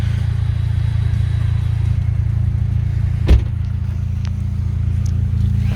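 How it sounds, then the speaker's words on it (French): A Toyota Celica pulls away on a road test, its engine a steady low rumble with a brief clunk midway, close and continuous with no talking. "on va avec Anthony faire le petit essai routier"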